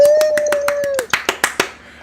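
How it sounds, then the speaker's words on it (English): Staged applause for a pretend at-home studio audience, a handful of sharp handclaps in a loose irregular rhythm, close and crisp, with a sustained tone under the first half and no talking. "There's something fun about fake clapping."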